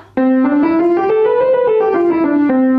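A steady stepwise major scale climbs and then descends, smooth connected notes played close and loud with no voices over it.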